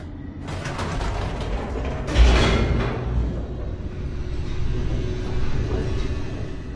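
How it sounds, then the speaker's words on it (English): An elevator in the video game The Stanley Parable races downward. A low mechanical rumble and grinding churn continue throughout, with a sharper clanking surge near the start and another about two seconds in. "The elevator raced downward, plummeting towards an unknown fate."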